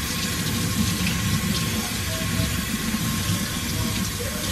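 Steady running water pours continuously from a tap while conditioner is rinsed out of hair, a loud, even broadband rush that fills the whole stretch with no voices.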